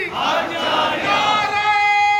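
A crowd at a religious gathering chants a loud, sustained unison response to Islamic slogans (naara takbeer, risalat), voices blending into a dense roar that tapers into a held, ringing tone near the end.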